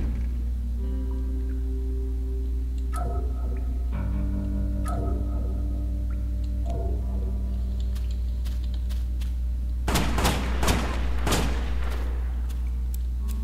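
Revolver shots ring out in West of Dead over a steady musical drone: a few spaced single cracks, then a rapid burst of shots emptying the cylinder near the end.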